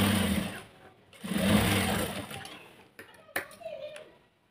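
A sewing machine runs in two bursts as it stitches the hem of a store-bought nighty, then stops, followed by a few faint clicks and handling sounds nearby.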